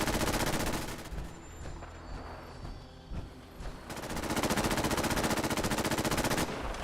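In modded Fallout 4, loud automatic gunfire rattles in dense, fast bursts, easing briefly in the middle before a heavy sustained volley returns, with no voices.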